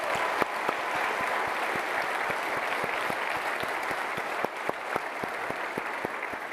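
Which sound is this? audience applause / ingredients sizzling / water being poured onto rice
audience applause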